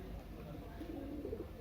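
A pigeon coos softly beside the Ganga river during bathing, with its low murmuring calls rising near the end over steady background noise and someone talking.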